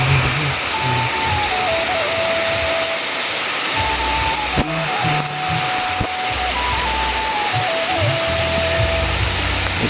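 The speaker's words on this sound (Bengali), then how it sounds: "হঠাৎ বৃষ্টি এসছে।" The season's first rain after the hot spring, falling steadily outdoors with a constant dense hiss of drops on surfaces, loud and close throughout, with a faint whistling tone drifting above it.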